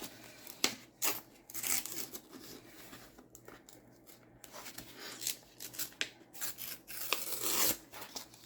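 A page is torn out of a book for a paper collage, with several close, sharp ripping and crinkling bursts spread out between quieter handling rustles.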